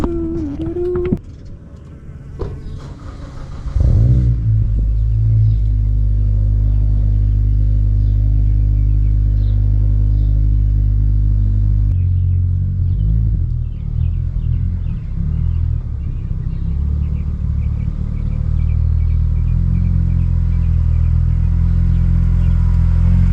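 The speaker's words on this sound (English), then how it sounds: "it drives straighter and smoother because new tires." Interior of an Acura TSX on new tires driving down a road, a loud steady low rumble of engine and road noise after a brief quieter start, with no talking.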